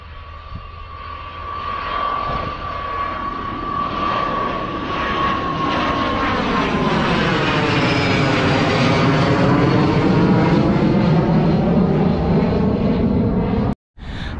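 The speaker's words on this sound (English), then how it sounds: "You might be able to hear another plane in the background." An airplane flying near Leeds airport, a steady engine roar that rises and swells with a shifting whine as it passes overhead, loud and continuous, alone without voices.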